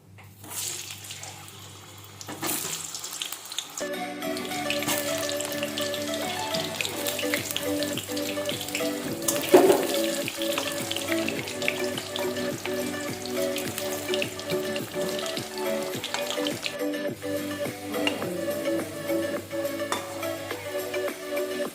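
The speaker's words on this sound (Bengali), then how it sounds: "কড়াইতে তেল দিয়ে প্রথমে আলুগুলোকে ভালো করে ভেজে নেব" Potatoes frying in hot oil in a kadai, ahead of a mutton curry, give a loud, continuous sizzling hiss. It starts after a few quiet seconds and holds steady with crackles.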